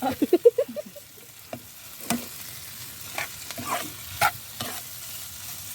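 Food sizzles in a pan with a few quick scraping stirs at the start, then a quieter steady crackle with occasional clinks.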